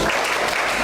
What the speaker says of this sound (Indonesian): Tepuk tangan, diam.